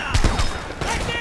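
A quick burst of several gunshots in the video game Homefront: The Revolution, close and punchy, with a second shot following just after a short gap, while a voice talks.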